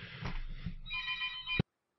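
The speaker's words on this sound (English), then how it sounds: "my phone's ringing" A mobile phone rings during an online session of the shooter game Dust 514. A steady electronic ringtone plays for about a second and a half under background noise, then cuts off abruptly.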